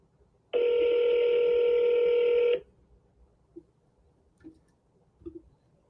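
A telephone tone sounds while calling sellers: one steady electronic tone held for about two seconds, clear and alone, followed by faint clicks and handling noise.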